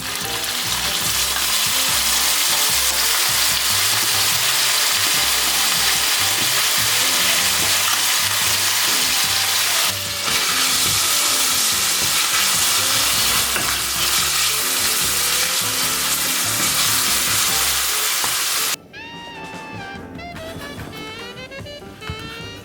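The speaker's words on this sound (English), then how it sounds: "I'll saute onion in olive oil, then add garlic" Onion, garlic and tuna sauté loudly in olive oil, a dense continuous sizzle with occasional stirring scrapes, cutting off abruptly near the end to a quieter tail.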